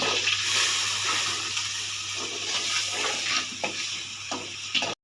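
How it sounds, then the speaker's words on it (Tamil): Onion paste fries hard in a pan for a Tamil fish curry, giving a loud, steady sizzle and bubbling with occasional stirring scrapes near the end; no one talks. "வெங்காயம் நல்லா வதங்கிடுச்சு"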